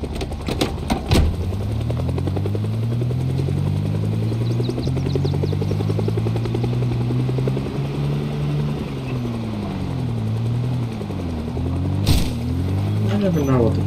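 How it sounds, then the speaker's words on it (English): Video game helicopter in Project Zomboid passes overhead, a loud rhythmic rotor thump with a droning engine tone that shifts in pitch as it moves, broken by a couple of sharp clicks. "I never know what the purpose of that helicopter is, except for drawing zombies to people."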